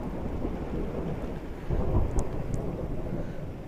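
Thunderstorm with steady heavy rain pouring and a rumbling roll of thunder swelling midway, heard from close by, loud and continuous without voices.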